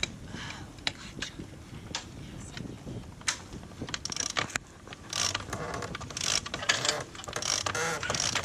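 Self-tailing winch on a cruising sailboat being cranked by hand, giving a run of irregular ratcheting clicks and pawl ticks against a steady wash of wind and water, with no talk.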